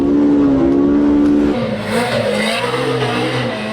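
A high-revving naturally aspirated engine of a 2022 Polaris RZR Pro R side-by-side drones loudly, its pitch holding steady then dropping and shifting as the revs change, with no talking.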